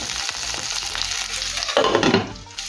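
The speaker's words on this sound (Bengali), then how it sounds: "ফুলকপিগুলোকে ঢাকা চাপা দিয়ে হালকা লাল লাল করে ভেজে নেব" Steamed cauliflower pieces fry in hot oil in a covered pan over low to medium flame, a continuous hiss with a louder burst of sizzling and crackle partway through.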